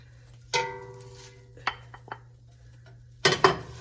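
Kale stirred into a pot of beef noodle soup: a few metallic clanks and scrapes of a utensil against the pot, separated by quiet pauses, with a louder clatter near the end over a low steady hum.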